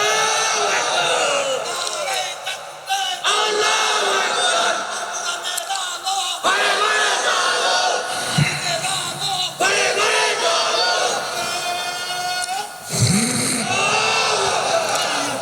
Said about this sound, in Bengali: 2টা হাত তুলে তাকবীর দিয়ে আমার আল্লাহকে দেখায়।